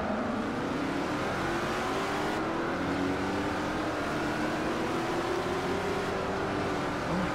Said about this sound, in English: It's time for the Ford GT around the Indianapolis Raceway.